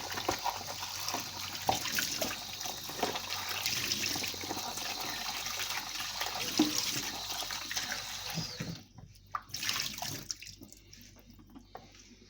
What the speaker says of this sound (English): I'm just washing all my apples.